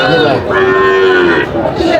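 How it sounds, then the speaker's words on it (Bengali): Cattle at a livestock market where Sahiwal bull calves are sold give long, loud moos, one near call followed by another, with no talk in between. "গরু"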